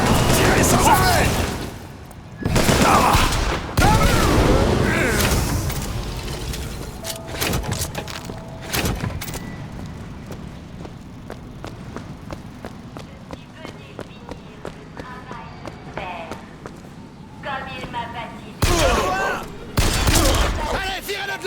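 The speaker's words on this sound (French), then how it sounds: "Tirez sans arrêt!" Bursts of gunfire in the shooter BioShock Infinite arrive in loud clusters at the start and again near the end, with sparser, quieter shots and clatter between them and voices in the mix.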